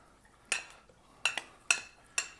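Four distinct clinks of a utensil against a bowl while seitan mixture is stirred, spaced irregularly and fairly close, with near quiet in between.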